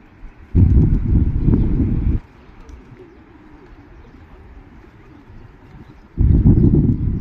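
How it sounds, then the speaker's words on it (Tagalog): Pigeons coo in two low, throaty bursts, one near the start and another at the end, with quieter outdoor ambience between, at a lake park on the Abu Dhabi Corniche. "Kalapati."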